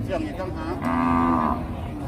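A cow at a livestock market gives one loud, drawn-out moo close by, rising after a short grunt and holding for about a second.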